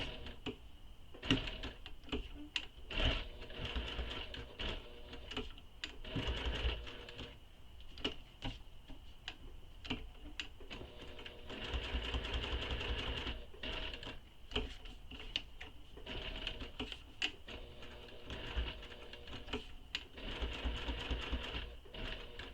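A sewing machine stitches around the edges of a fabric bag in stop-start bursts, a close rapid mechanical ticking and whirring with frequent short pauses and clicks throughout.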